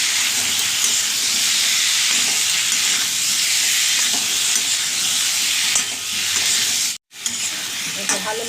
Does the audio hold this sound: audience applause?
no